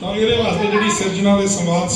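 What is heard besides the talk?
No everyday noise stands out behind the speech.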